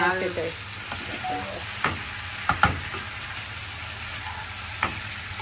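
Beef liver fries in a pan for a spicy bhuna, giving a steady close sizzle with a few brief clinks and scrapes of stirring and no voices.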